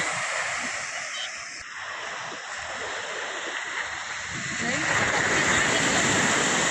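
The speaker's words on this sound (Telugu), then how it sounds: "సముద్రం అల్లకొల్లంగా ఉంది అందుకని చూడండి ఎంత పైకి వస్తున్నాయి అలలు" Rough sea waves surge and wash in a steady broad roar that swells louder toward the end, with voices talking faintly over the surf at a beach in Udayagiri.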